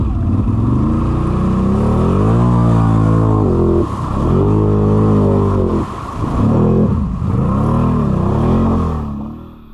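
A Can-Am Outlander 850 XMR ATV engine revs hard in two-wheel drive, loud and close, with its pitch climbing and falling in repeated surges and two brief dips between pulls.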